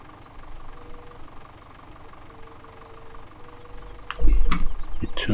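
A tractor engine cranks over and catches near the end, a low rumbling burst rising into a rough, loud idle after a long stretch of quiet background hum with faint clicks.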